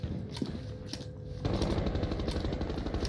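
Gunfire from a Call of Duty Warzone Resurgence match, steady rapid shots in a continuous stream that grows louder and denser halfway through, with no talking.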